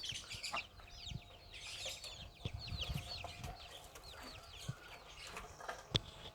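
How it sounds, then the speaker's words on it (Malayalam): A flock of free-range country chickens clucks and chirps busily close by, many overlapping calls with scattered scratching and thumps on the ground. "കോഴികളെല്ലാം ഓടി വരും."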